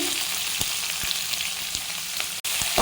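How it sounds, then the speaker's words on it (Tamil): Onions sizzle and crackle in hot oil, a steady close frying hiss with a few soft clicks and one brief dropout. "வெங்காயம் போட்டு தாளிச்சிக்கலாம்."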